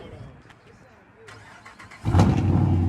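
A straight-piped 2012 Dodge Charger R/T cranks and fires about two seconds in. After quiet background chatter, a loud, deep exhaust rumble settles into a steady idle.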